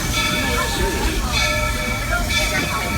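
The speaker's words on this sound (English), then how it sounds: "As we pull into Main Street Station, please remember to stay seated" Walt Disney World Railroad train rolling into Main Street Station at Magic Kingdom, a steady loud rumble of rail cars with hiss and faint squeals, continuous throughout.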